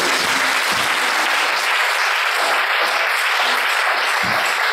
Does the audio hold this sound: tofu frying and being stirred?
no